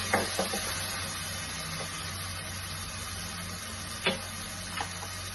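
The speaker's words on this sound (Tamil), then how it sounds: "இது நல்லா கொஞ்சம் ஃப்ரை ஆகட்டும்" Vegetables fry in a pan for veg pulao with a steady, soft sizzle, broken by a few faint clicks and spoon scrapes, quiet and close with no talking.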